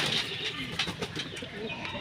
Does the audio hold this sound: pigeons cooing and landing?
yes